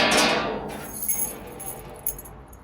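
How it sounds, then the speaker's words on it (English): A bunch of keys pulled from a shelf inside a large safe strongbox gives off a bright, close metallic jangle that is loudest at the start, with a few smaller clinks following as the keys settle. "Set of keys."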